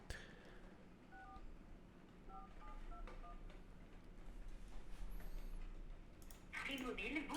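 Telephone keypad tones beep in short separate presses as a mobile number is dialled, faint under room noise and quiet speech, followed by a brief burst of louder sound near the end.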